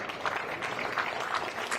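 Audience applause after a 10-ball pool match at the Arcadia Arizona Open, a short steady patter of clapping from a crowd, fairly close and even throughout.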